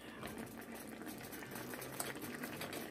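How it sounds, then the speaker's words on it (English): Two cups of water simmering in a pot while liver and rice cook, a soft, steady bubbling and popping that holds evenly throughout. "Yes, 2 cups of water, let it simmer."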